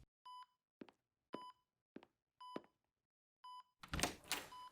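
A phone keypad dialing in the Batman Telltale game: a series of short, clean electronic beeps in an even rhythm, separated by brief clicks, followed by a louder burst of noise at the end.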